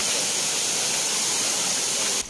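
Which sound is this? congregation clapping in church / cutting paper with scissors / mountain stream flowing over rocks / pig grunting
mountain stream flowing over rocks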